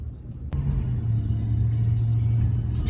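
A truck driving along with a steady low engine rumble and road noise from inside the cab, a brief knock early on and a short rattle near the end.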